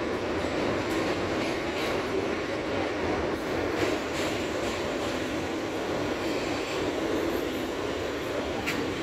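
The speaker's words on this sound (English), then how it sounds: "This is a Brooklyn-bound F local train" Inside a moving Brooklyn-bound New York subway F local train, a continuous loud roar of wheels and car noise carries steadily throughout, with faint rattles and clicks.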